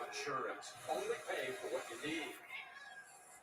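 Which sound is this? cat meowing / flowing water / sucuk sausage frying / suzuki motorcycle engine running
cat meowing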